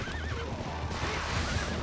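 Horse neighing in The Legend of Zelda: Twilight Princess HD, a loud whinny with a wavering pitch, followed by a second whinny among galloping hoof clatter and game background noise.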